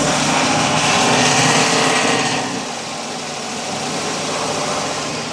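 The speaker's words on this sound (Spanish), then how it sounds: "Lo voy a acelerar a 1500 RPM." A car engine with a misfiring cylinder number 2, held at about 1500 RPM during diagnosis, runs as a loud, steady, buzzing drone that eases slightly in level midway and carries on with no talk.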